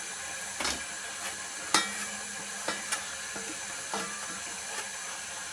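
Sliced bacon sizzles in a heating pan, a thin steady hiss broken by a handful of sharp clicks and taps from stirring or a utensil striking the pan at irregular moments, close and fairly quiet with no voices.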